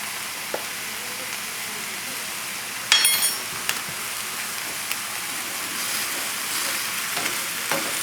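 Vegetables and hamburger meat sweat in a soup pot, giving a steady crackling sizzle with a few sharper pops and a clatter of stirring partway through, no voices heard.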